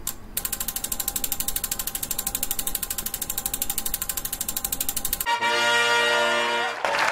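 Prize wheel spinning with a fast, even stream of clicks from its pointer that stop after about five seconds, followed by a brief bright musical jingle at close range.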